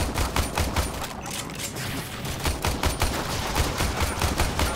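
Rapid, dense gunfire from the Warframe video game, bursts of shots crackling steadily and loudly across the whole stretch with no pause, close and unbroken.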